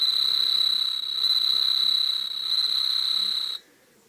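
A Buster Gear Transpod Beet & Stag toy gives an electronic cricket chirp, a steady high shrill trill that runs loud and unbroken for about three and a half seconds before stopping abruptly.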